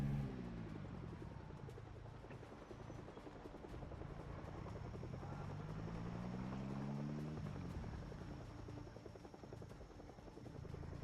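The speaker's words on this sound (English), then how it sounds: "The helicopter definitely came back." In the video game Project Zomboid, a helicopter flies overhead with a steady rotor chop that swells and then fades, its pitch sweeping as it passes, heard alone without speech.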